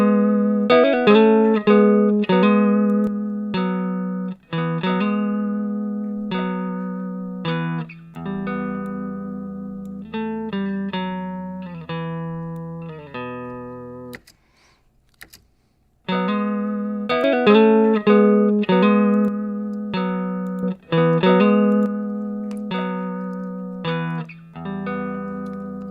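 Electric guitar with a boxy, hollow tone plays a repeated riff of plucked notes and chords, heard first with the equalizer bypassed and then with a midrange cut. The two passes are separated by a short pause.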